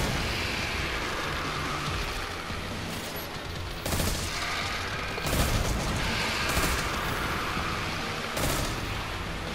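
Gunfire in the video game Destiny 2 comes through as dense, continuous battle noise, with several sharper bursts and booms standing out at intervals and no voices.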